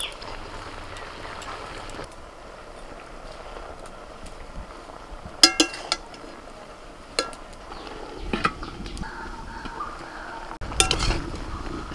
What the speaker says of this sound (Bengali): একটু ভালো করে নাড়াচাড়া করে দিই